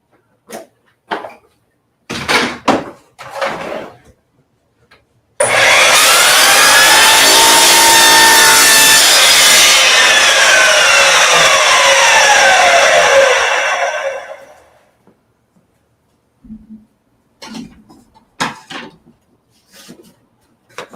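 Miter saw slicing through a board for a router table build: a loud, close whine-and-rip cut of about nine seconds that spins down afterward, framed by scattered knocks and handling clatter before and after.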